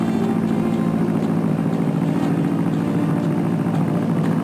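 An old propeller plane engine in the Spy Fox video game, a loud, steady, droning rumble that continues without a break.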